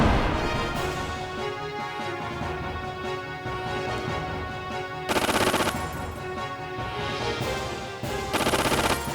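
Small guns fire in the PS1 game Xenogears in sustained rapid automatic bursts, with harsher, louder volleys breaking out twice near the end.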